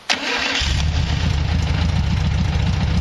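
A VW-engined trike cranks and fires up, then settles into a steady, loud idle that runs on without a break, with no talk over it.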